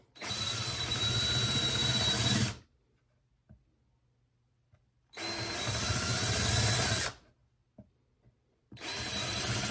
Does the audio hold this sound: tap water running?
no